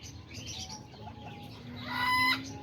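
A Silkie rooster and Silkie hens cluck in a pen, with scattered calls building to a louder, drawn-out squawk near the end and a brief flutter of wings.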